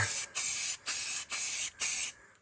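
Aerosol spray can misting an MR2 Turbo part to prep it for 3D scanning, five close hissing bursts of roughly a third of a second each, evenly spaced with brief gaps, alone without talk.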